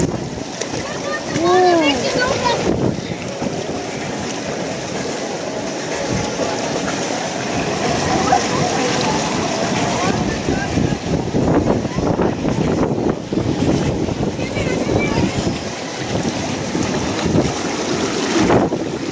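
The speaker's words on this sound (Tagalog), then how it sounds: "White water rafting." White water rafting through rapids, with a steady roar of rushing water and wind buffeting the microphone, while people shout and talk over it.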